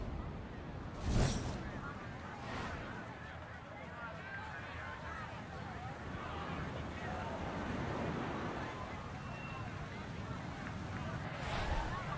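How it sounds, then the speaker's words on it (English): Ocean waves crash on the Pacific shoreline below a seaside golf course in the EA PGA Tour video game, a steady broad surf wash that swells and recedes over the whole stretch. "start to hear the crashing waves below"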